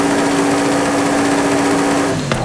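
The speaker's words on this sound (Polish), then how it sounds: "Tutaj zwiększamy sobie obroty maksymalne, więc słyszycie, że te obroty nam wzrastają." In Forza Horizon 5, a car engine revs toward its maximum RPM with a loud, steady buzzing drone that holds throughout, then drops off abruptly at the end, with no talking.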